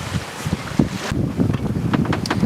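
Wind gusts buffet the microphone aboard a sailboat off Catalina Island in 15 to 16 knot winds and four-foot seas, a loud, uneven rush with occasional thumps and splashes.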